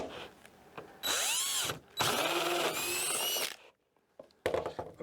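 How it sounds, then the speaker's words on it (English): A 1 3/16 inch hole saw on a power drill cutting a notch in a plastic reservoir lid; close, loud bursts of whining grinding with short pauses between, then brief quiet and a final short burst. "I use this this is 1 3/16 inch hole saw here"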